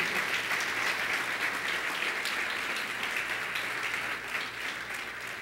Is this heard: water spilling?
no